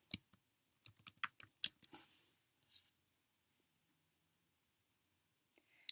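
Computer keyboard typing in a quick burst of crisp keystrokes over about two seconds, then silence, with a couple of faint isolated clicks near the end; close and fairly quiet.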